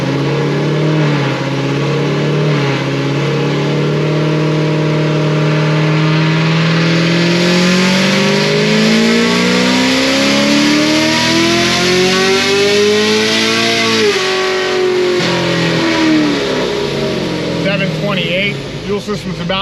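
A Stage 5 Procharged LT1 Camaro running a high ethanol blend revs loudly and steadily climbing in pitch for several seconds, then drops back, with a whining supercharged note over the engine roar.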